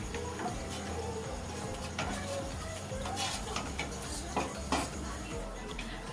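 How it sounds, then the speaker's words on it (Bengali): Milk heating in a wok while being stirred, with light metallic scraping and ticking taps of the utensil against the pan over a low boiling hiss, fairly faint and close. "এবারে ভালো করে দুধটা নেড়ে চেড়ে জাল দিয়ে নিতে হবে।"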